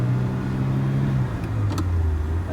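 A 1983 Ferrari 308 GTS cruises in second gear, its engine a steady low drone that shifts pitch midway under continuous road and cabin noise, with no talking.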